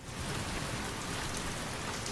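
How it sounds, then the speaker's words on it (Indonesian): Steady rain falling, a dense even hiss of drops spread across the whole clip at moderate level, with no voices. "Gak lama hujan turun, lalu Cheng dan Chia memilih berteduh."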